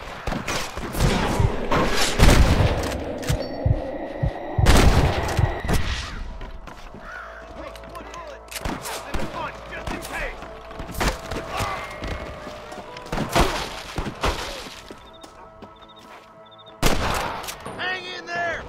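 Gunfire in the Western video game Red Dead Redemption: repeated sharp rifle and pistol cracks, some in quick clusters, over a busy battle bed with occasional shouts, close and loud.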